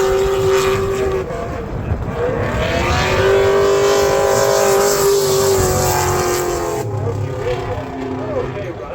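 V8-powered Nissan S13 drift car at a drift series event, its engine holding a loud, sustained roar that climbs in pitch and then eases off toward the end.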